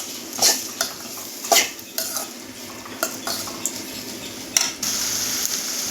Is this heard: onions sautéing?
yes